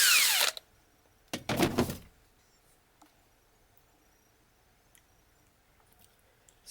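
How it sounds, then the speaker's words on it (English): Two short bursts of a power drill whirring, the first under half a second and the second slightly longer, then near silence with faint clicks. "get a drill and a drill bit"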